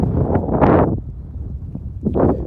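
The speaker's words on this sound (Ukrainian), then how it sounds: "Сильний вітер, може погано чути" Strong wind over a hilly field buffets the microphone in rough, rumbling gusts, rising and falling over a couple of seconds.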